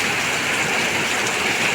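Heavy monsoon rain pours down in Konkan as a dense, steady roar of water that holds at an even loudness throughout, with no voices.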